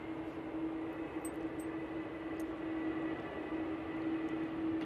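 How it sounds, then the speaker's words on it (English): Faint, distant jet hum of a Boeing 787-9 Dreamliner with composite wings on landing approach, a low steady drone with a constant tone running through it, and no one talking. "787-9 Dreamliner."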